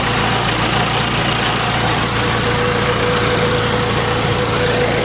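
A Massey Ferguson 285 tractor idles nearby with a steady, loud, low rumbling hum that holds constant throughout, with no talking.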